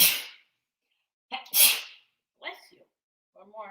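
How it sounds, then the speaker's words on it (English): A few sharp sneezes, close and loud, separated by pauses, with a short bit of quiet talking near the end. "She's a triple sneezer."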